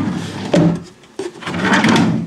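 A wooden workbench drawer slides and knocks twice in quick succession, close and fairly loud, with rattling contents and no talking.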